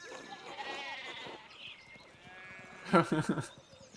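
Sheep bleat in the medieval-set video game Pentiment, a few wavering, nasal cries with one louder burst near the end, mixed with game dialogue and faint hoof-like clatter.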